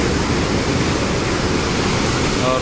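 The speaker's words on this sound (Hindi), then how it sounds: "गेट के ऊपर से ही बह रहा है पानी।" Floodwater rushes over dam gates near a bridge in Rajnandgaon, a loud, continuous roar of churning water that fills the scene evenly, with a faint voice barely surfacing near the end.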